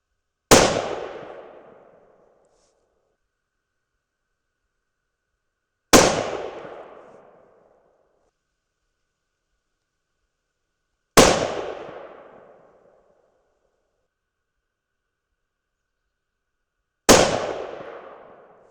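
Four loud, sharp rifle shots from a Thompson Center Compass in 6.5 Creedmoor, spaced several seconds apart at an outdoor range, each with a short decaying echo and silence between, no talking.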